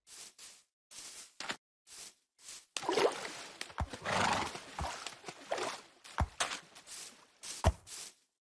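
A horse in a video game neighs and whinnies, with hooves clip-clopping between loud, sharp bursts of game sound, at close range and with no talking.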